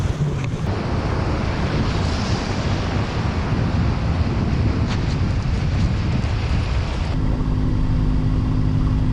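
A boat motors out of Salinas under engine power, with loud wind and rushing water filling the sound. A steady low engine drone becomes clearer toward the end, and no one speaks.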